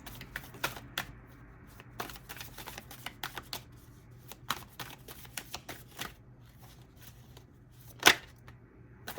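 Tarot cards being shuffled by hand in a quiet room, a run of soft riffling clicks and taps spread unevenly across the stretch, with one sharper snap near the end and no talking.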